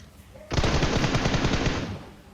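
Automatic gunfire from the PUBG battle-royale video game: a sudden loud burst of rapid shots starts half a second in and rattles on steadily for about a second and a half before cutting off.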